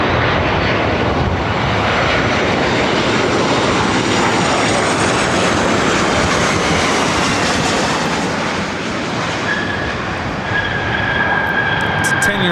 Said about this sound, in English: This is Delta Airlines 2766 coming in from Portland.